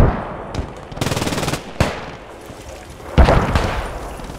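Machine gun fire in the WWII shooter Post Scriptum comes as loud, close sustained bursts of rapid shots broken by single sharp cracks and a heavy boom near the end, with no talking over it.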